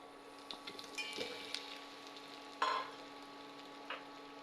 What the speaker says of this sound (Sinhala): හොඳින් බැදුණු අපේ මේ තෙල් මිශ්‍රණය අපි ඒකට අපේ පොලොස් ටික දාගන්න ඕනේ